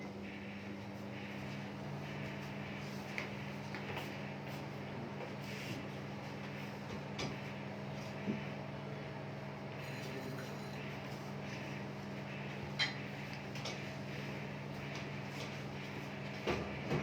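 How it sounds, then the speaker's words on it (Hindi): A microwave oven runs steadily for about thirty seconds, a continuous low mechanical hum with a faint fan whir and occasional small clicks. "थर्टी सेकेंड के लिए मैं इसको माइक्रोवेव करूंगी"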